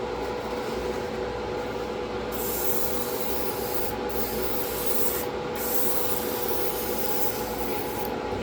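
An airbrush sprays black paint onto the hull stripe of a 1/535 scale Atlantis USS Iowa model ship, a steady close airy hiss running continuously with slight shifts in brightness and no voices.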